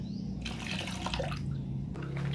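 Jakaba liquid, a homemade fermented microbial solution, is poured in a short splash into a container while mixing fertilizer for tomato and chili seedlings. A steady, close watery trickle lasts about two seconds, with no talking.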